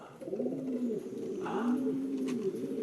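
Pigeons on a roof coo in soft, rolling phrases, two drawn-out calls close by, over a faint outdoor background.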